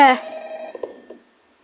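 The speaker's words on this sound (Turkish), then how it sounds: "Ondan sonra telefon çalıyor" An electronic telephone ring from Five Nights at Freddy's sounds as a single short tonal burst that quickly fades, followed by faint clicks before silence.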